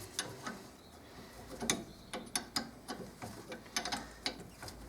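A ring spanner works the front brake bolts on a Fiat Fiorino, producing irregular metallic clicks and ratcheting ticks in quick bursts, close up and fairly quiet, with no talking.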